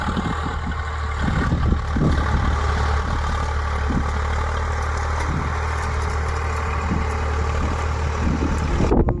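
A farm tractor engine runs steadily while ploughing a field, a loud, continuous low rumble with slight fluctuations in load and occasional knocks, close and uninterrupted for the whole stretch.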